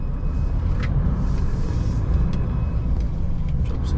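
HGV truck with a long rear overhang driving along a narrow Devon country road, a steady low engine and road rumble heard from the cab with a few faint clicks and ticks above it.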